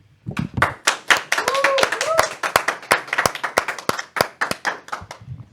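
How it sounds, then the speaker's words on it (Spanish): Several people clap loudly in a studio at the close of a faith-themed talk program, sharp distinct claps in an uneven rhythm, with brief voices or tones sounding faintly beneath partway through. "Te despedimos con un fuerte aplauso"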